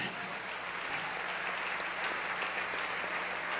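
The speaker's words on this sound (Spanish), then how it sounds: "Dale un aplauso al Rey." A church congregation claps during a sermon, a loud continuous wash of many hands that holds evenly throughout with no speech on top.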